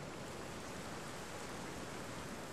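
Steady rain falling in the video game Jurassic World Evolution 2, a soft, even hiss of rainfall on surfaces heard alone at low level with no pauses.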